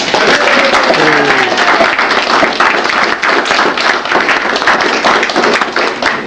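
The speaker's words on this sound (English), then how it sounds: "can we have a round of applause, please?" At a science fiction convention's closing ceremony, an audience gives a sustained round of applause, loud and dense throughout, with a brief voice or whistle rising early on.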